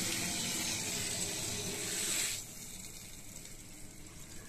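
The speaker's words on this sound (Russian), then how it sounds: "Видите, как давление пошло воды." Water rushing through a well-water softening and iron-removal filter system as its regeneration cycle starts: a loud, steady broadband gush that abruptly drops to a quieter flow halfway through, with no talking.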